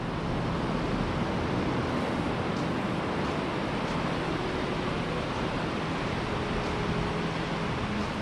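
Waves break steadily in a small sheltered bay facing the Atlantic Ocean at Lenan Head beach, County Donegal, Ireland, a continuous loud broadband wash of surf with wind, with no voices.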